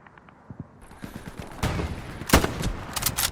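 Rifle fire in the World War II shooter Hell Let Loose comes as a scatter of sharp shots, faint at first and then louder, with one heavy crack near the middle and a few more sharp reports after it.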